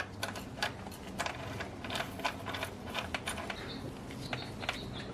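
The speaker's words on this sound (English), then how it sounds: "Thread our 8mm bolt through there" An 8mm bolt threaded into the tensioner pulley of a BMW E36 with the M52 engine, a string of small metallic clicks and light scrapes, close and moderately loud over a low steady background, no voices.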